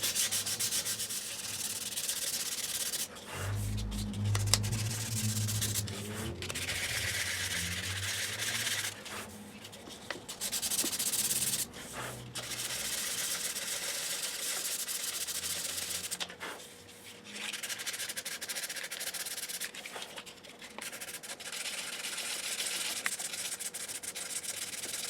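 Steady rhythmic rubbing of 600 grit sandpaper cutting the top coat on a Les Paul guitar neck, close and fairly quiet, continuing in long strokes with brief pauses between passes.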